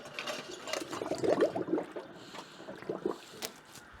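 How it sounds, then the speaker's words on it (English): A Duofiller can seamer seals a homebrewed beer can with a brief mechanical whirring and ratcheting rattle, moderately close, in a quiet room. "and I start seaming the can and prepare another can for a seaming."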